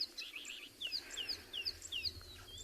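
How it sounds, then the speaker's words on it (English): Birds call and chirp at sunrise on safari, several bright whistled notes repeating every half second or so over a soft, quiet background, moderately near. "listening to all the birds that are around us here"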